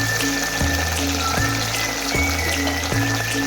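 Cluster beans (gavar) sizzle in hot oil in a pan, a loud continuous frying hiss with repeated scraping strokes running through it.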